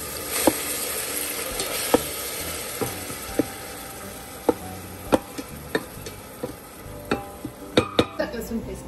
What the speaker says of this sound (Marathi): ओनियन नंतर हो अद्रक लसूण पेस्ट राहिली, छान परतवून घेते मी मस्त.